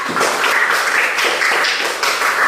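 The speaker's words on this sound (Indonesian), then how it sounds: "Silakan kelompok 1 beri tepuk tangan dulu ya" A classroom of students clapping for a discussion group after its presentation, a steady, dense wash of applause lasting throughout with no voices over it.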